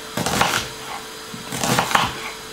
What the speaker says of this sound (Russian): порежу лук